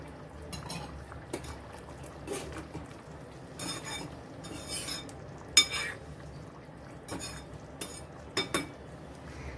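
A potato amti is served from the pot into a dish, with scattered clinks and scrapes of metal utensils over a faint background, close and soft.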